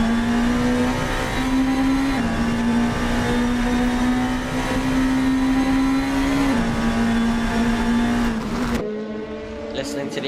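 Onboard DTM race car engine in Assetto Corsa, a loud steady high-revving drone with brief pitch steps at gear changes, cutting abruptly near the end; a commentator talks over it.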